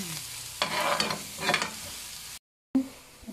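Garlic sautéing in oil until brown, a moderate sizzle with two stirring swells, a short silent gap, then the frying resumes.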